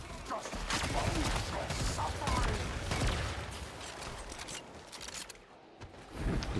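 Enemy gunfire in a fantasy online battle, a dense stream of rapid shots and clattering impacts that swells and fades, moderately loud, with someone talking over it.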